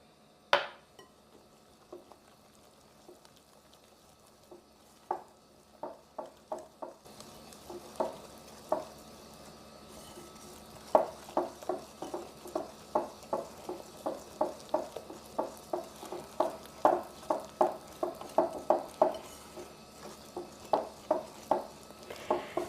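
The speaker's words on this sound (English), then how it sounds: "we're just going to add a little bit into our powdered sugar, and we're just going to start mixing it up" A spoon stirs orange juice into powdered sugar for icing, first in a few sparse scrapes and then in a quickening run of repeated clicking strokes against the bowl, close and fairly quiet.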